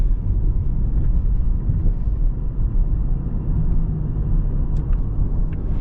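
2025 Ford Mustang EcoBoost Premium Convertible with its 4-cylinder engine while driving, a steady low, coarse rumble with road noise, constant and close with no talk.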